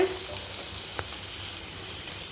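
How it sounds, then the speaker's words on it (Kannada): Spring onion and capsicum fry lightly in a pan, giving a steady soft sizzle that runs evenly throughout, with one faint tap near the middle and no talking. "ಇದನ್ನು ಹಾಗೆ ಲೈಟಾಗಿ ಸ್ವಲ್ಪ ಫ್ರೈ ಮಾಡಿಕೊಂಡ್ರೆ ಸಾಕು, ಜಾಸ್ತಿ ಫ್ರೈ ಮಾಡಬೇಕಾಗಿಲ್ಲ"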